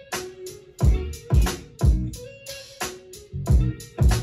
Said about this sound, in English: Now that I'm in pattern mode, I'm going to play a beat.